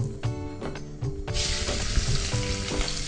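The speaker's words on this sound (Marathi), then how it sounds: "तेल गरम झालंय. सर्वप्रथम कांदा." Onion goes into hot oil with cumin seeds. After a few clinks, a loud hiss erupts, settles into a steady broadband fry and carries on under a low background hum. Nobody talks, and the sound is close.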